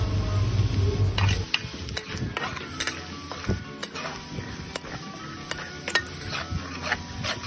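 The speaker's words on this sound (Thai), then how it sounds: "พอน้ำมันร้อนแล้วใส่กระเทียมสับลงไปค่ะ3กลีบผัดจนกระเทียมเหลืองเลยค่ะ" Three cloves of minced garlic fry in hot sunflower oil in a pan, a continuous sizzle broken by frequent sharp clinks and scrapes of a utensil stirring against the metal, close and fairly loud.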